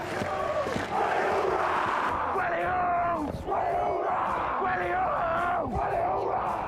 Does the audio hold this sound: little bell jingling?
no